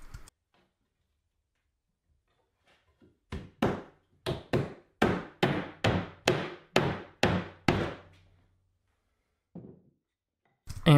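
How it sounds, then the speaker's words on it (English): Clamps are tightened onto sacrificial wood pieces on a maple bar stool leg assembly, giving about ten sharp, evenly spaced wooden clicks in a quick run, then a few isolated knocks in an otherwise quiet room. "I am clamping some sacrificial pieces of wood on here so that the clamps aren't squeezing directly on the leg assembly"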